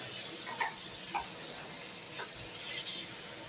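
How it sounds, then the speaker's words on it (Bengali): Broken wheat and moong dal sautéing in a pan for a vegetarian dalia khichdi, a faint steady sizzle with a few soft stirring scrapes, alone and quiet. "এই মুগ ডাল আর সব কিছু দিয়ে এবার একটু সুন্দরভাবে এটাকে, যতক্ষণ না একটা সুন্দর গন্ধ বেরোচ্ছে,"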